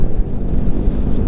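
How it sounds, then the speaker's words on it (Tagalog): Strong wind roars into the microphone during a motorcycle ride on Yamaha XMAX300, NMAX 195cc and Honda ADV150 scooters, a loud, continuous low buffeting rumble close up. "Malakas talaga hangin."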